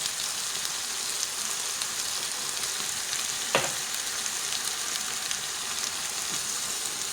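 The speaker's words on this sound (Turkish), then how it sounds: "Böyle biraz kızarsın." Saffron milk cap mushrooms fry in a pan with a steady, close hiss and sizzle, lightly salted and releasing their juices, one brief sharp clink partway through and no speech.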